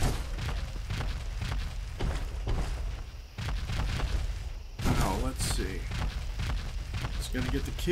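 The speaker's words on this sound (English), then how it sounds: "More gunfire sounds." Gunfire in the video game Fallout 4: repeated bursts and booms of shots and impacts in a dense, noisy battle mix, with a heavy crack near the middle.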